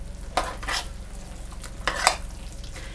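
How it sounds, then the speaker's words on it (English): A spoon stirs salt and pepper into a hashbrown casserole mixture of tater tots, making two short bursts of scraping and rustling over a quiet background hum, close by and without talk. "We're going to stir that up before we add the cheese."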